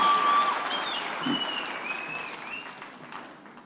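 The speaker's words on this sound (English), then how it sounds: "Ladies and gentlemen, let's give them a round of applause collectively." Applause at a university graduation ceremony, a soft, diffuse wash of clapping that slowly fades, with faint cheers or whistles rising above it early on.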